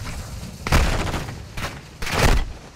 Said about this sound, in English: Stop shooting me through the smoke, bro.